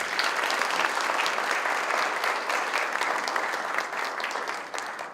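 A room full of company employees at a corporate ceremony applauds steadily, dense clapping at an even level that fades slightly at the end.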